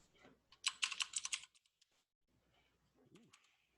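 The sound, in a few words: typing on a computer keyboard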